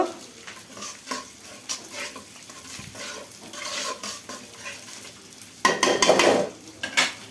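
A spoon stirring chili powder into curry in a hot pan for a Katla fish dish, quiet frying sizzle with intermittent scraping and clinks, growing louder near the end.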